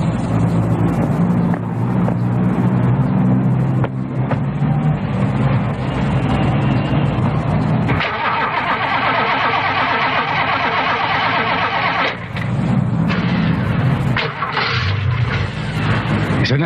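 Car engine cranking and then running after a battery fix, a rough continuous motor rumble that shifts in tone partway through, with people talking over it at times.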